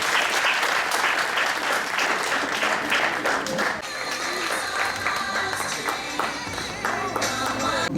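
Audience at a graduation ceremony for a fourth graduating class applauds the school director after his speech, a dense, steady wash of clapping from a large crowd lasting throughout, with faint voices mixed in.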